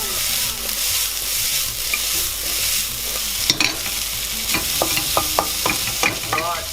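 Chopped choy sum stirs through pork in a hot wok, giving a steady loud sizzle with scraping turns of a utensil and a few sharp clinks toward the end.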